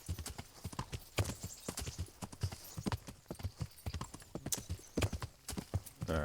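A horse's hooves clip-clop in the medieval game Kingdom Come: Deliverance, a steady run of close, distinct thuds in a walking rhythm with no other sounds over them.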